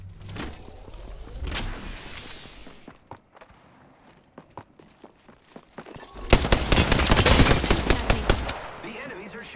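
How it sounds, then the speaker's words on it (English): Apex Legends gunfire: scattered single shots and short bursts, then a loud, dense burst of rapid automatic fire near the end, with softer clatter and movement between. "The enemies are shooting at me."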